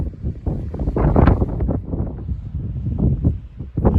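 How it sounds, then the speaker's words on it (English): Strong wind roars across the exposed crest of the Sandia Mountains, buffeting the microphone in loud, continuous gusts with no pause. "It is extremely windy."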